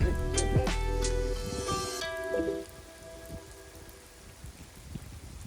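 Rain pattering steadily on a forested trail on Mount Takao, a louder spell of drops and splashes at first that eases into a softer, constant hiss.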